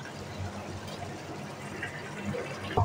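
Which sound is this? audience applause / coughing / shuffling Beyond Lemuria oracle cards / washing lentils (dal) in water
washing lentils (dal) in water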